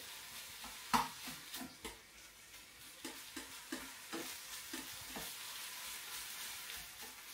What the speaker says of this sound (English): I'm just waiting for the mince to cook